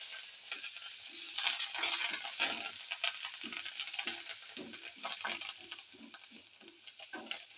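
Spices for a mango pulihora tadka sizzle in oil with turmeric and curry leaves, a soft crackling fry broken by repeated stirring scrapes in the pan.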